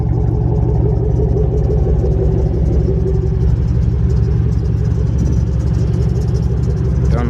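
A Buick LaCrosse Super engine runs steadily at idle, a loud, close, continuous low rumble with no talk over it.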